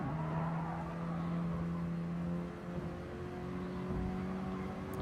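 Mini Cooper Cup race cars in the Chewitt Racing series roar through turn 1 at Tokyo Central Inner Loop, a steady loud engine drone with sustained tonal whine that dips briefly mid-way, no talk over it.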